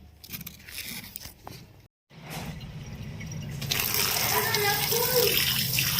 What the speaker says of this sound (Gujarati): આવી રીતના સરસ પાણી ભરી અને એને આપણે ધોવાના છે